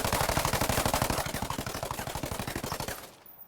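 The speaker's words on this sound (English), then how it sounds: "They have got 100 clip mags, so we're emptying quite a bit of bullets into the wall here" Rapid automatic fire from a Stoner light machine gun emptying a 100-round magazine into a wall in the video game Ghost Recon Breakpoint: a steady, fast burst of shots lasting about three seconds, then stopping.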